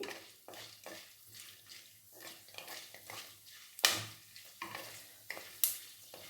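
Peppercorns fry in a pan of ghee or oil for kattae pongal, giving a low steady sizzle broken by a few sharp pops and clicks of stirring against the pan, with no voices.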